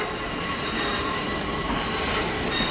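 A Class 720 Aventra (Arterio) electric train near London rolls along with a loud, sustained high-pitched squeal from its wheels over a steady rumble.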